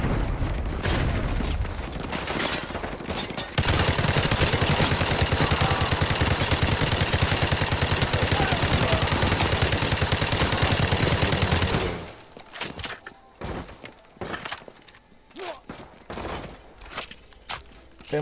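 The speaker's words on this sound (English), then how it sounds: "Bear in mind this is a powerful machine gun." Sustained heavy machine gun fire from Call of Duty: Modern Warfare 2, a loud continuous burst lasting several seconds before cutting off, followed by scattered shots, clanks and footsteps in the game's combat.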